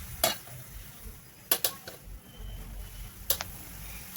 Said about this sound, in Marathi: त्याच्यामुळे पालक आधी परतून घ्या.